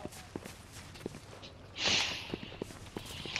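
Footsteps in a multiplayer shooter game tap out in a quick irregular patter, faint and mid-distance, with a brief rushing burst midway and no speech over them.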